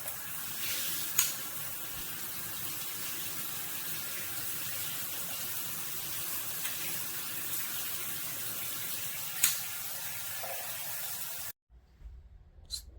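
Water sprays steadily from a MakeFit filtered shower head with front sprayer and handheld running together, a constant hissing rush with a couple of small knocks, ending abruptly in near silence.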